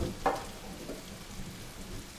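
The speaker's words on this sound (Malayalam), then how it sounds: "ഈ മഴ തോരാൻ ലക്ഷമില്ല" Rain falling steadily outdoors, a soft, faint, even hiss lasting throughout with no one speaking.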